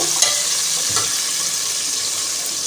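Beef sizzles steadily in a pot for pulao, a constant bright frying hiss with a couple of short scraping stirs near the beginning.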